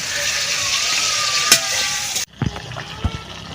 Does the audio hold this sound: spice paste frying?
yes